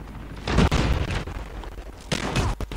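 Bursts of gunfire from the mobile shooter Call of Duty Mobile in multiplayer, several loud close booming volleys with sharp cracks near the end, no talking.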